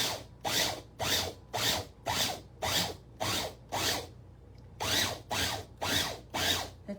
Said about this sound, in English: if you're using a food processor, you do the pulse method, on, off, on, off, on, off.